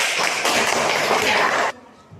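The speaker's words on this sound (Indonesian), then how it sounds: "Sekarang beri tepuk tangan tuh kelompok pelatih karena pekerjaannya betul semua" Classroom of students clapping together in a dense, steady burst that stops abruptly, leaving a quieter room tone with faint voices.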